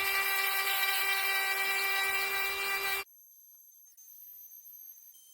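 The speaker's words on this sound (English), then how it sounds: "I put a sanding attachment on here." A high-pitched Hyper Tough 12V rotary tool with a sanding attachment whines steadily for about three seconds sharpening blades, then cuts out, leaving a faint electronic hum.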